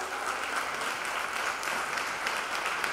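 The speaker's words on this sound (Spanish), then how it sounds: "la señora Mariana, Carolina, María José, con un fuerte aplauso." A crowd at a school ceremony gives teachers steady, loud applause that holds at an even level for the whole stretch with no talk over it.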